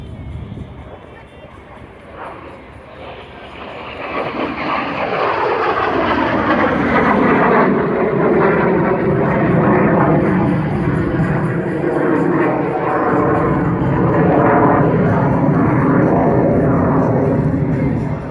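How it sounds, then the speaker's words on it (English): Jet aircraft in an aerobatic display, a loud roaring engine that builds up and sweeps in pitch as the plane passes overhead and carries through the maneuver, with a commentator talking over it. "he ends up inverted in the maneuver named after the great German World War I pilot Max Immelmann"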